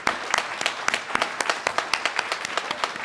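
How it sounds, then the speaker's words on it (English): A crowd at a Korean American Day celebration claps in a brisk, fairly even burst of distinct hand claps, moderately close, with no speech over it. "applause"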